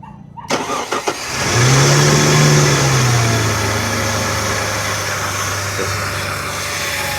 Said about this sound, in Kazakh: Машина от алды.